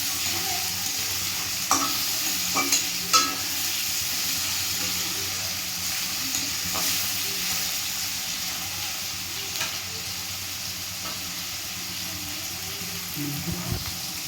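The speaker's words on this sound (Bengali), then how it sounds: "দিয়ে ভালো করে নেড়ে চেড়ে নেওয়া হচ্ছে" A frying pan of Bengali crab curry with a pinch of salt, stirred steadily in a continuous sizzle, with occasional scraping clicks from the spoon and no talking.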